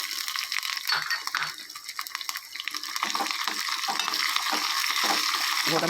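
Mustard seeds, cumin, green and dried chillies and cashews fry in hot oil for rava pongal, giving a steady dense sizzle and crackle up close, with light scraping of a spoon throughout.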